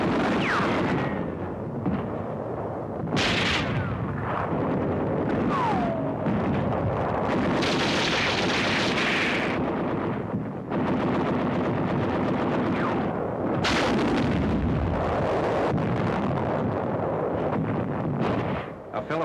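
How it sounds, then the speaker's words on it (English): Wartime combat in a WWII newsreel, with mortar, artillery and machine gun fire echoing loudly and continuously through a dense, rumbling, wind-buffeted battle din, sharp blasts and bursts rising over it. "The enemy uses mortars, rockets, and artillery to hinder our advance."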